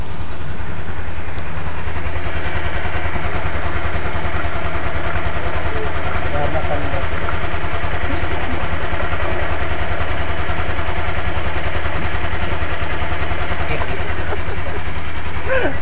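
A rebuilt Honda Beat Deluxe motorcycle engine idles smoothly, a steady, loud, close mechanical hum with a constant low pulse that runs unbroken throughout.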